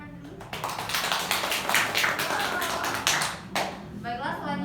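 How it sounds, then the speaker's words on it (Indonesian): Audience in a hall breaks into sustained applause, dense clapping that swells and then fades toward the end, with a voice faintly heard under it. "Boleh beri tepuk tangan dulu."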